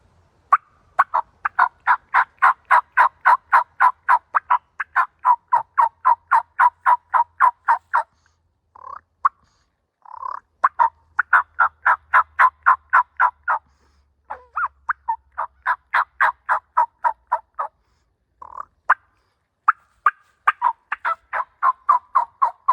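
A mouth reed call imitates turkey yelps in fast rhythmic runs of raspy notes, repeated in several sequences with short pauses between, loud and close.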